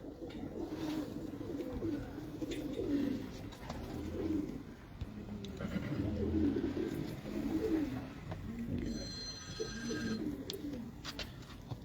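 Pigeons of one breeding setup in Karachi coo in low, rolling calls that rise and fall across the stretch, fairly close and steady, with a brief electronic ringing tone near the end.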